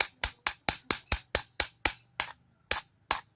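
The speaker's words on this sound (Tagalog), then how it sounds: "Tiktikan lang natin." Metal tool tapping to knock stuck residue off a melted-down piece being cleaned before weighing, about a dozen sharp close knocks in a steady rhythm, fairly loud, with no talking.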